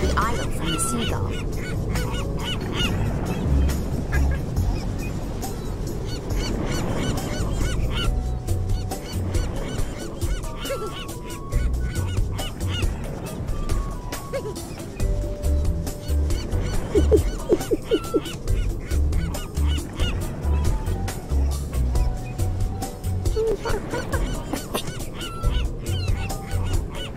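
Seagull calls in the Curious George PS2 video game, repeated honking squawks over game music and effects, with spoken game dialogue in places, fairly loud and persistent throughout.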